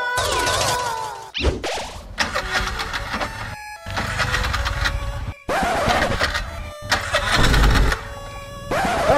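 A motor engine cranks and turns over several times in short bursts, with clunks between attempts, loud and close.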